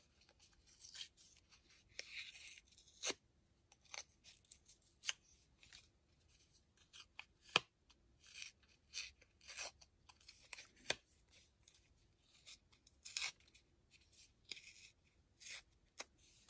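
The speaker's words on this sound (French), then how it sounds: "Je vais déchirer sur le côté aussi." Paper being torn along its side, quiet dry ripping and rustling in short separate bursts against near silence, some bursts sharper and louder than others.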